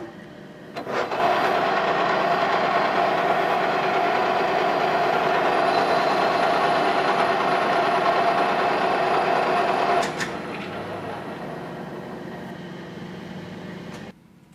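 A lathe takes a light scratch pass while cutting threads on a tube, a steady mechanical whir running for about nine seconds before dropping to a quieter idle hum, with no talking.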